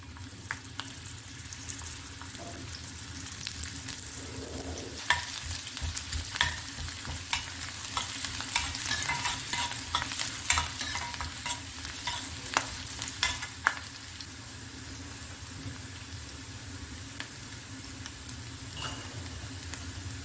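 Onions frying in oil in a pan for egg fried rice, stirred the whole time: a steady close sizzle broken by frequent sharp scraping and clinking from the spoon, with no voices.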